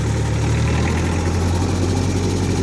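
Tractor engine running steady and loud while spraying a hazelnut orchard in hot weather, a close, continuous low rumble and drone with no talk over it.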